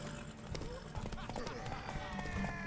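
Horse hooves clip-clop in The Witcher 3 during a race, with a rapid rhythmic patter of hoofbeats under game music and spoken voices.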